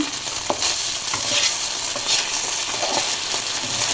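Paneer cubes fry in a hot pan with a loud, dense crackling sizzle, broken by occasional scraping and stirring clicks as the pieces are turned, with no voices.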